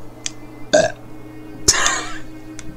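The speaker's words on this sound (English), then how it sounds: "I was about to start and you burped" A loud, close burp bursts out in the middle of a gaming session, with a shorter gulping sound just before it and faint background noise around it.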